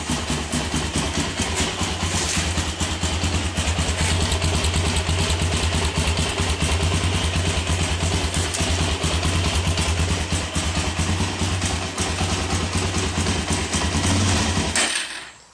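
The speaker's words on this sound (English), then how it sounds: "I'll start it up, let y'all hear it." Arctic Cat DXV 400 ATV engine idling steadily and loudly up close, a constant low rumble with fast even firing pulses that continues alone without a break and cuts off right at the end.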